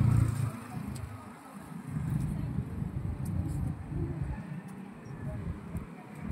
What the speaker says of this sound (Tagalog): Dito yung mga sasakyan.